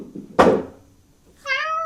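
Indoors, a cat knocks something over with a single sharp thump, then lets out a clear, close meow after a short pause.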